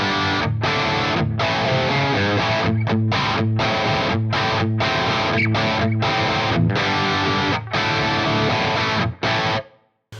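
An electric guitar runs through a live preset on a FAS AX8 modeler, playing heavily distorted, chugging rhythm chords in tight bursts with short sharp gaps, loud and up front.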